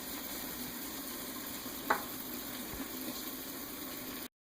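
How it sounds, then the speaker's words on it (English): Potatoes and onions fry in a pan with a steady, soft sizzle throughout, broken by a single sharp scrape or clink as the mixture is stirred; no one speaks. "Trying to get all the potatoes and onions stirred up, so that way we can hopefully evenly fry all of these."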